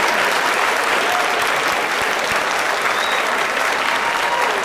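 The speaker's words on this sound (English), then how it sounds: "can we please get a round of applause for the support from all of our" A graduation audience breaks into loud, sustained applause, a thick wash of many hands clapping at close range with no letup across the whole stretch.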